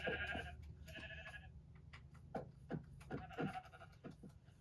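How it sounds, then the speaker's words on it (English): Minecraft sheep give several wavering bleats in short bursts, some overlapping, fairly quiet over a low background hum. "Lot of sheep in these parts."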